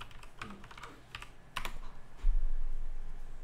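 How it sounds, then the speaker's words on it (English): Keys clatter on a computer keyboard in a quick, uneven burst of close taps, followed by a louder low rumble of room noise, with no one speaking. "let me type her name"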